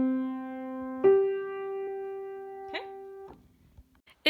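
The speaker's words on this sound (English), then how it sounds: "But if I were to play a melodic fifth, it would sound like this" Keyboard playing a melodic fifth, a held note then a higher note struck after it and sustained, close and clear, with a couple of brief soft noises near the end.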